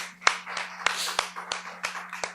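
Scattered claps from a church congregation giving encouraging applause, a handful of sharp, distinct hand claps at uneven intervals over a low steady hum, fairly quiet and sparse.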